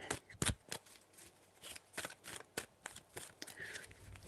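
Tarot cards shuffled by hand in a quick series of crisp riffling bursts with short pauses between, close and fairly quiet.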